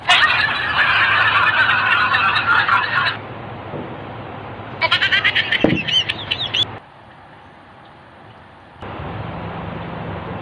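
Loud, busy bird calls fill the first few seconds, then a second burst of clucking-like calls, with quieter background noise between.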